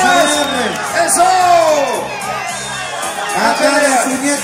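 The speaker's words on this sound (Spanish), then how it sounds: "¡Ven esas palmas! Para ambos peleadores, ¡eso!" A crowd at a Takanakuy fighting event in Lima, Peru versus Bolivia, roars, whoops and shouts loudly for both fighters; excited voices rise and fall in waves, close and dense.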